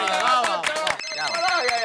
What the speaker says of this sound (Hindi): अरे एक मिनट, फोन।